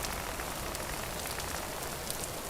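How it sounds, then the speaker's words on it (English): Rain pours in the video game Vintage Story at 4 a.m. in November, a dense, even hiss of drops that holds steady from start to finish with no voices. "Out here at 4 in the morning in the rain."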